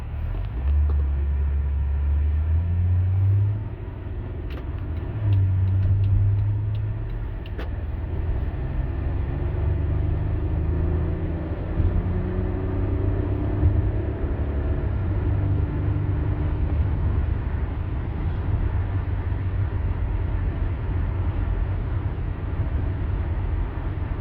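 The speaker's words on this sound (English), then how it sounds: "I think when I accelerate, it'll start" A 22-year-old Lexus/Toyota engine runs with a deep, steady low rumble, swelling a little in pitch and loudness as it is revved during acceleration, heard close and without talk.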